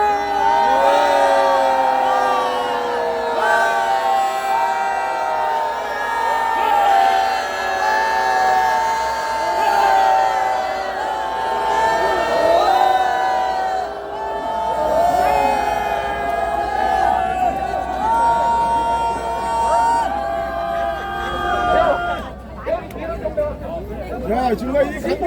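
A large crowd at a Korean televised presidential debate event shouts and cheers for a long stretch, with a dense roar of many voices and whoops sustained at full volume before fading near the end.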